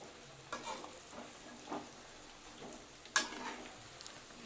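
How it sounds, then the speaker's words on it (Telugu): Prawns fry in a pan over medium flame, a soft, steady sizzle broken by a few scraping stirs and one sharp clink, with no talking. "కొంచెం ఇవి వేగడానికి టైం పడుతుంది, ఒక 10 నిమిషాలన్నా టైం పడుతుంది."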